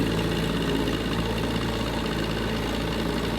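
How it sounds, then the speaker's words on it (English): A restored 1957 Johnson 7.5 horsepower outboard motor idles steadily, a constant low mechanical drone with faint knocking and vibration, no voices. "This motor pushes my John boat about 11 miles an hour"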